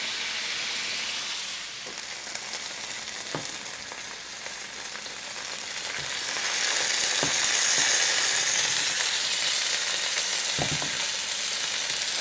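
Pork chops fry in olive oil in a pan with a steady, loud close sizzle that swells midway, broken by a few soft knocks from the pan, and no talking.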